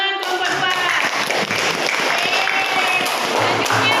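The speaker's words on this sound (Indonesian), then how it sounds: "Tepuk tangan kelompok 2" A classroom group of students applauds for a presenting group, a loud, dense spatter of hand claps running throughout with voices mixed in.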